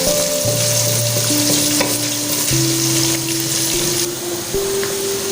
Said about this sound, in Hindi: प्याज़ों को अच्छे से ब्राउन करते हैं